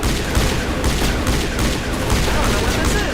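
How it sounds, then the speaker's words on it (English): Assault rifle gunfire in a video game, a loud continuous barrage of rapid shots filling the whole stretch with no pauses. "Gonna need my assault rifle."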